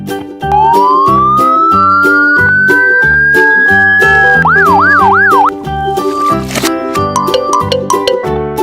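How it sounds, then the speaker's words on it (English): A toy police car's electronic siren plays over a bouncy jingle-like tune, its pitch rising steadily before breaking into a rapid wailing warble, loud and close throughout. "Police car."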